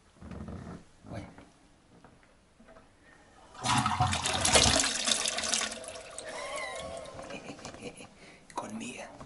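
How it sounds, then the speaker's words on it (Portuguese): A toilet flushing in an economy stay room in London. There is quiet talk first, then a sudden loud rushing surge of water that tapers into a gurgling refill. Speech resumes softly over the draining. "Reparem só nesta descarga."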